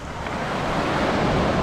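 On a beach on Waiheke Island, New Zealand, waves wash in a steady broadband rush, mixed with wind buffeting the microphone, loud and continuous with no voices.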